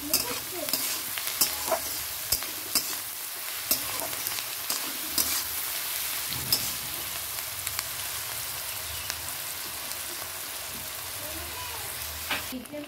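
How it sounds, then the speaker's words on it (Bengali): Onions fry in a pan with a steady soft sizzle throughout, while a utensil stirs and taps the pan in occasional sharp clicks. "পেঁয়াজটাও বেশ নরম নরম হয়ে যাবে, তাড়াতাড়ি ভাজা হয়ে যাবে"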